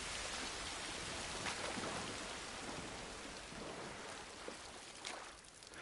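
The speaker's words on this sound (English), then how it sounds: "I am sick and tired of rain right now, so I am very glad that we're indoors" Steady rain falls in the video game The Last of Us Part 1, a dense continuous hiss of drops on surfaces with faint low rumbling, moderately quiet and without talk.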